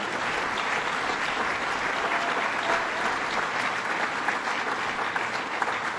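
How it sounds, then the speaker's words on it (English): Sustained applause from an audience at an awards event fills the room, a dense, steady wash of clapping lasting several seconds without a break. "give them another round of applause"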